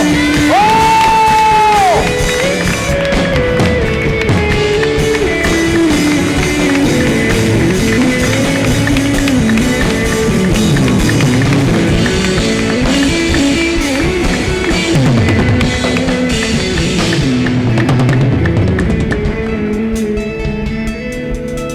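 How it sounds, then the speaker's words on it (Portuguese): A church congregation at a worship service erupts in joyful shouting, whoops and applause, a loud, dense crowd roar that carries on throughout, with sustained tones from music underneath and some voices calling out. "Começa a aplaudir o Senhor com brado de alegria, celebração."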